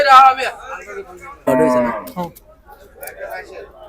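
A cow at the busy Gabtoli cattle market lets out one loud, drawn-out moo partway through, with fainter calls and crowd voices around it.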